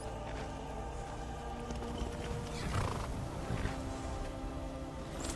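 A horse in Skyrim, the fantasy video game, whinnies with a long, loud neigh over steady clip-clop hoofbeats and ambient game sound, with no talking.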